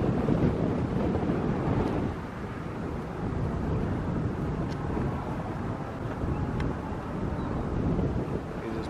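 Wind gusting steadily across an outdoor construction site, a broad rumbling roar against the microphone that stays fairly constant and dips briefly before rising again, with no talking.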